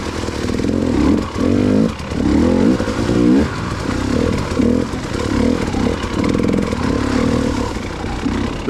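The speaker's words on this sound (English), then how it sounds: "you can hear his bike" A motorcycle engine labors up a mountain road on a fall ride, its loud, close, buzzing drone rising and falling in repeated revving surges through gear changes, with no talk over it.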